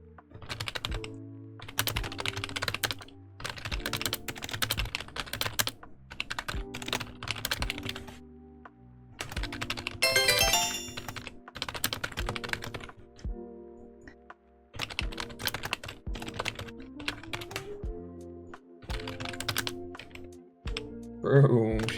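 Rapid typing on a computer keyboard runs in dense bursts with short pauses, the keys clattering close and crisp, and some talk lightly overlaps.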